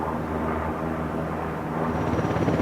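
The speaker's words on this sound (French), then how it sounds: "cet hélicoptère a la capacité de faire des loopings avec son rotor rigide" A combat helicopter with a rigid rotor flying an aerobatic display at the Paris Air Show at Le Bourget, a loud continuous engine and rotor roar that swells slightly toward the end, with no talking.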